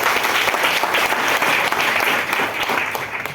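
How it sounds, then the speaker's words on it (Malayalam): An audience claps loudly and continuously, a dense sustained patter of many hands with no talk over it. "നല്ലൊരു കൈയടിച്ച്."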